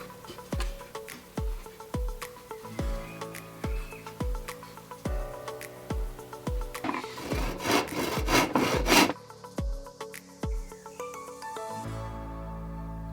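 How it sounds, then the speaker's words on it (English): A hand saw cutting pieces of wood at 45-degree angles for a bird table, with steady, rhythmic back-and-forth strokes, close and fairly loud, speeding into a quick flurry before stopping. "Now we're going to use the saw to measure a 45-degree angle on these pieces of wood, and we will cut them."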